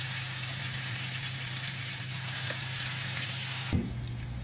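Salmon bites fry in butter and oil in a pan, a faint, steady sizzling hiss that runs throughout, with a brief clunk near the end.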